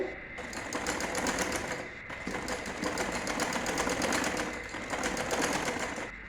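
A sewing machine stitches the front and back panels of a winter frock with plates together. It runs as a close, steady rattling hum in several long bursts, broken by brief pauses.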